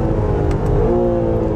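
A high-revving Honda NSX supercar engine in track mode screams up and holds at the rev limiter around 7,500 rpm, a loud, close, sustained mechanical howl.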